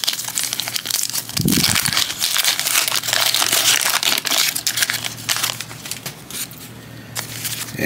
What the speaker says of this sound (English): today I'm opening a pack of 1988 Fleer Baseball